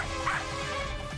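Sheru the dog barks in a cartoon kids' show, one brief bark over a busy, continuous music bed.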